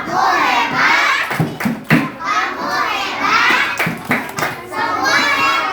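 A classroom of children chants in unison while clapping hands in rhythmic bursts, loud and close, with overlapping young voices throughout.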